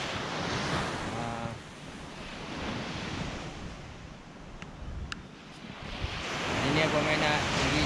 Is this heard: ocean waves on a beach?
yes